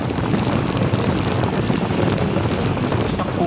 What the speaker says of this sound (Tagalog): makikita ang pabugso-bugsong pag-ulan sa Barangay Riuing, Lawag City